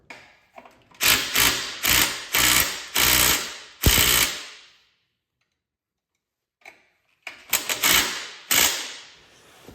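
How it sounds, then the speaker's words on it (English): Mechanical ticking and ratcheting as a front wheel is fitted to an off-road trike, loud close bursts in two clusters with a long silent gap between them. "Now I'm gonna throw the front wheel on."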